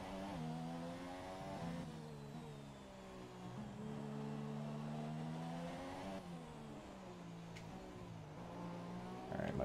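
Formula One car in the F1 2017 racing game at the Spanish Grand Prix, its engine screaming loudly and continuously, pitch climbing and dropping with throttle and gear changes, alone without talk.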